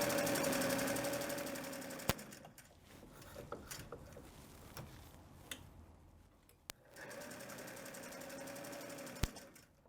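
A sewing machine stitches fabric in two steady motorized runs at the start and end, pausing in the middle while the needle is set and the presser foot lifted, with a few sharp clicks between runs.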